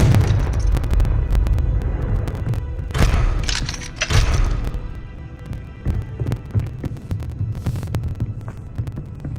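Blasting Confringo spell explosions in Hogwarts Legacy, with loud bursts and rumbling booms over a steady low throb, the strongest blasts landing around the middle of the stretch.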